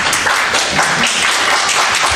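A room full of people at a county commission meeting clapping steadily, a dense, continuous burst of applause that stays loud throughout.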